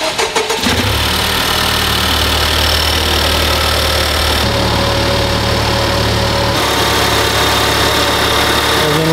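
A Honda Civic Type R engine, freshly rebuilt with an HKS overhaul, cranks and catches on its first start, then settles into a loud, steady idle with no voices.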